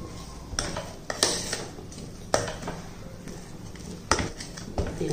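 Urad dal kali mixture stirred with a ladle in a pan, with several sharp metallic scrapes and knocks at irregular intervals over a quiet background, near and without talk.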